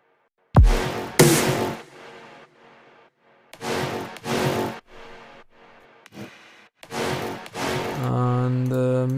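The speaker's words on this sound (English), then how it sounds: "I layered three stabs." Layered synth stabs in an electronic music drop hit as loud, bright chords in punchy pairs separated by short gaps, closing on a sustained tonal chord.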